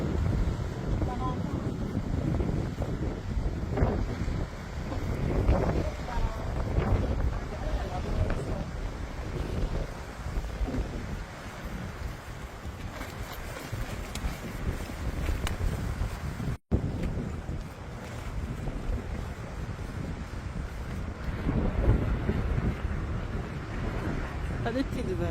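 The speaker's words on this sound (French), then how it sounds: "Là, on sent qu'il y a du vent aujourd'hui" Wind gusts across the microphone along the Portuguese coast path between Vila Chã and Aguçadoura, a moderate, uneven rushing with brief buffets, heard under people chatting as they walk.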